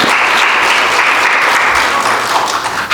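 A church congregation breaks into a steady burst of dense, loud applause, many hands clapping together in an even wash of sound with no voices over it.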